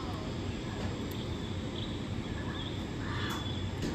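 Birds call and caw inside the Bronx Zoo's Jungle World indoor exhibit, short scattered cries over a steady, dense hum of the enclosed building.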